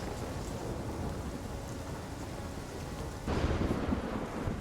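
Steady rain with rolling thunder in The Witcher 3 video game, a constant broadband downpour that swells louder near the end as a heavier rumble of thunder or rain rolls in.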